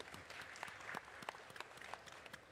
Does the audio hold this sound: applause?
yes